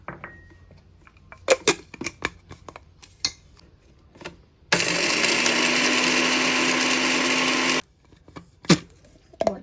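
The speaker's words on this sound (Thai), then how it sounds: "เปลือกหอมใหญ่คั่วนะคะ เราเอามาใส่เครื่องบดเลยค่ะ" Electric grinder grinding pan-roasted onion skins, a loud steady motor whine with a dense rattling buzz lasting about three seconds, set between sparse clicks and knocks of handling before and after.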